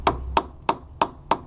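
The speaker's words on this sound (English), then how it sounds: "We're just going to tap it around the threading" A normal hammer taps lightly around the threads of a seized outdoor faucet, giving five sharp metallic knocks at a steady, even pace. The knocks are close and clear with nothing else heard.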